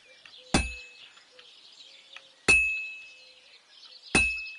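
Three sharp, ringing metallic clangs from a blacksmith's hammer striking metal at a forge in the video game Kingdom Come: Deliverance 2, spaced a couple of seconds apart over faint background ambience, each hit leaving a bright lingering tone.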